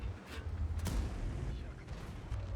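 Tank cannon fire in a tank video game, a sharp heavy shot from the M54 Renegade loaded with gold premium ammunition, with loud rumbling battle noise around it and a second blast under a voice.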